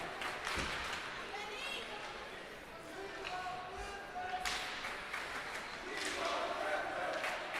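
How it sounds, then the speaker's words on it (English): Crowd cheering at a lacrosse game, moderately distant and mixed with sharp stick and ball knocks and shouts, while commentators talk over the action. "don't know if you can hear the crowd cheering for the captains"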